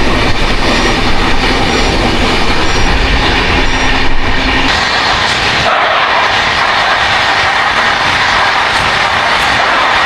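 Gurumukhi SF Express passenger train running at about 111 km/h, a loud, steady rumble and rush of wheels on rails heard from on board, with a sharper shift in the roar partway through.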